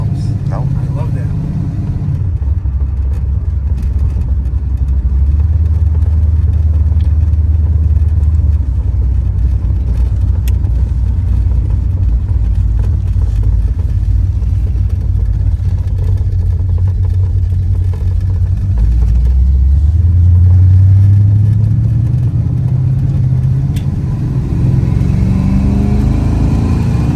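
A 1976 Chevrolet Corvette with a numbers-matching roller motor and aluminum heads cruising on the road, its engine a steady low drone throughout that swells into a rising rev near the end, with people talking over it.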